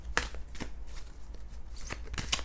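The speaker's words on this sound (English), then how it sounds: "you can be shuffling and you just know when to stop" Tarot cards shuffled by hand, close and crisp, with several distinct riffling bursts separated by brief pauses and no talk.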